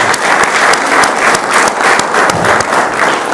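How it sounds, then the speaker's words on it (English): Loud, sustained applause from the audience at a San Juan city commission meeting, steady clapping filling the whole stretch with no talk over it. "So a big round of applause again to all these."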